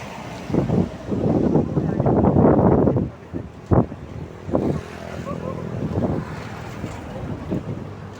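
Wind buffets the microphone in heavy gusts at Twin Lakes, Tagaytay, on a cold, rainy ride, loudest early on, with brief voices and bumps breaking through before it settles into a steadier rush.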